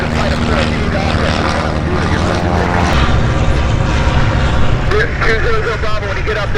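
Aircraft departing at EAA AirVenture Oshkosh during a busy run of takeoffs, giving a loud, steady engine and propeller roar that holds for the whole stretch with a slight rise in the last seconds.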